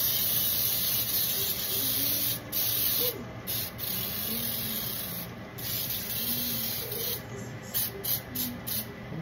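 Close aerosol spray can hissing in long continuous bursts broken by short pauses, with a faint voice and a low background hum underneath.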